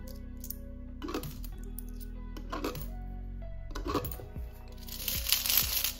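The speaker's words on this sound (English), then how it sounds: "we are taking out our change and we're going to put that into our beloved coin jar" Coins clink and rattle in several quick bursts as handfuls of change drop into a nearly full coin jar, close and fairly quiet, with a brighter jingle near the end.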